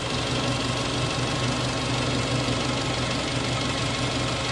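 An Eicher CNG BS VI truck engine runs steadily at idle, a loud, even rumble with a rhythmic knocking pulse and no voices.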